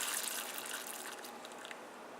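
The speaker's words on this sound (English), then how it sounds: "So we already got the water boiling, so I'm gonna go ahead and pour" Boiling water poured from a kettle or pot in a home kitchen, a steady soft hissing splash lasting a couple of seconds with no talk.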